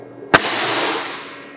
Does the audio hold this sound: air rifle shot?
yes